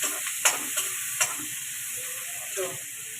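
Onion and potato sauté in a pan for vaghareli khichdi, a steady close hiss of frying broken by a few sharp clicks and scrapes of stirring.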